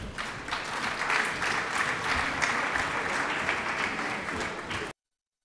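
Sustained, dense audience applause filling a French conference hall at an even level for about five seconds, then cutting off abruptly into silence.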